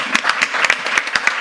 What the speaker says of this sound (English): Can I have the biggest applause for the panel?